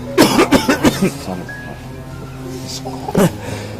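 A sick father's rapid run of harsh coughs, close and loud, followed by a pause and one more cough.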